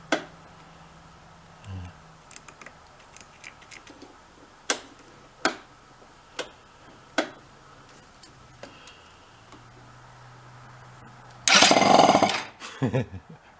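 A scooter engine, run with no carburetor fitted, bursts into a loud, rough, brief run near the end. Before that come scattered sharp ticks and clicks.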